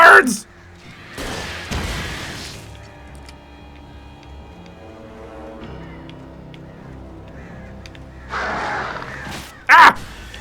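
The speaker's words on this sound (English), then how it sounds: "Ah, the birds!" Crows swarm and attack in the video game Alan Wake Remastered, with harsh bursts of cawing and flapping at the start and again near the end, framed by a loud cry and shouting, over low droning music.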